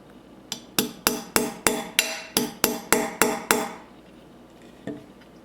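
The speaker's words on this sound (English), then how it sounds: "Going to give it a few taps." A hammer taps a pin into an AR-15 trigger guard about ten times in a steady, even rhythm, sharp and close, followed by a pause and one lighter tap.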